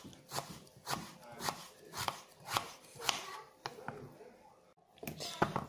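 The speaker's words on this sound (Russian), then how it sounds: "Мастер-класс, как резать картошку." A kitchen knife slices through potatoes on a board, producing a steady run of crisp, evenly spaced chopping knocks, close and fairly quiet.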